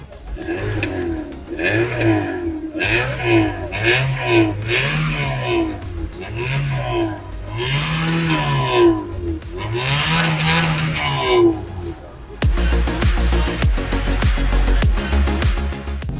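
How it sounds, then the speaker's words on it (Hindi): A car's engine cranks and catches after a service and tune-up, then revs repeatedly in rising and falling surges up close, ending in a steadier loud idle with a rougher tone. "अब मैं गाड़ी स्टार्ट कर रहा हूँ"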